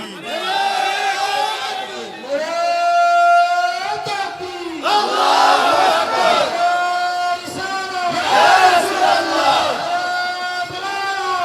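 A large crowd at an Islamic religious gathering shouts takbir in unison, loud sustained chanted voices rising and falling in several long waves, close and dense.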